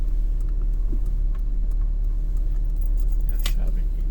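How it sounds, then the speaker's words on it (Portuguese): Car keys jangling in a parked car, a few light metallic clinks and rattles over a low, steady engine-like rumble, close by. "É a chave aqui."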